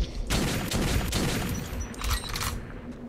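A gun in Metro 2033 fires a rapid burst of close, loud shots over about three seconds, with no talk.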